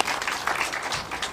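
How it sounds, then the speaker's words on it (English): A room of attendees at a polytechnic press briefing claps for the Director General of the Kenya National Qualifications Authority, a brief, uneven burst of many hands clapping at moderate loudness. "Good clap for the DG"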